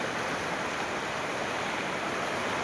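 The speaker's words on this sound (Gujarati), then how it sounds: "જો કેટલું પાણી જાય છે" Heavy river water rushes steadily past a damaged bridge on the Mahi river, a constant broadband roar with no pauses or voices.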